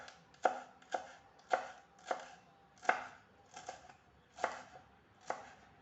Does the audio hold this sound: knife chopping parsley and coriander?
yes